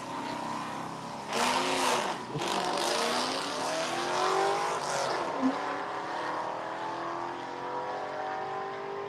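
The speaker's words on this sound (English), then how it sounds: "Mustang ripping, rolling through the gears" A Mustang race car rips past on a circuit, its engine rising and falling through gear changes with a clear Doppler sweep, loud and steady, then fading as it moves away.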